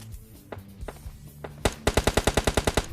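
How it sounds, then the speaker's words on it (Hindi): Gunfire in PUBG Lite: a few scattered single shots, then a loud, rapid automatic burst of about a dozen evenly spaced rounds, close and sharp. "जरा सुनो, गनशॉट सुनो।"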